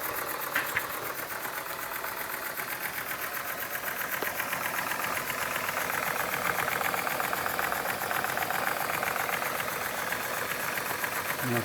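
A Jensen 55 live steam engine runs with its flywheel turning, giving a steady, rapid mechanical chuffing and clatter that stays close and even throughout, with no voices over it.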